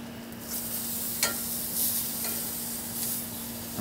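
Tri tip sizzling on a Napoleon Phantom grill just after being flipped, a steady hissing crackle with a faint constant hum beneath and a few small pops, fairly quiet and with no talking.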